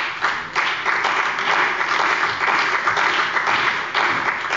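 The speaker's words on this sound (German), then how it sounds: "Applaus" Sustained applause fills a parliamentary plenary chamber in Hessen, dense steady clapping from many members, loud and continuous throughout.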